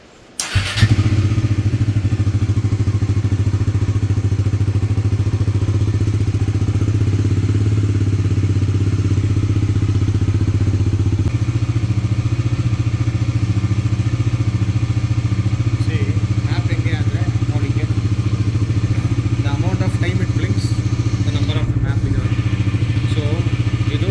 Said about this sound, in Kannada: ಗಾಡಿನ ಆನು ಮಾಡ್ತಿದ್ದೀವಿ. ಗಾಡಿ ಆನ್ ಆಗಾಯಿತು.